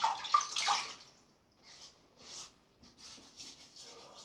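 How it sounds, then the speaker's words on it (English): Water splashed onto a face by hand while wetting it for shaving, a burst of close splashing followed by several softer splashes and drips. "Now I'll just wet my face"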